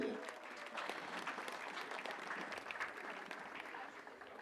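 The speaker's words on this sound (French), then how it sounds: "On peut applaudir à Marie" Spectators clap for a winner at a veteran triplets pétanque championship final, a thin, faint patter of applause from a modest crowd, steady for several seconds.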